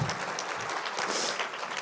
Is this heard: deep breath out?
no